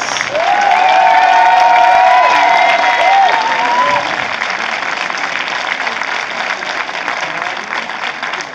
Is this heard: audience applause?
yes